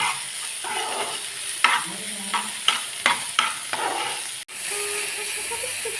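A green chili and onion filling sautés in a pan, with a gentle sizzle under repeated sharp spatula scrapes and taps, followed by a brief cutoff and then a steadier frying hiss.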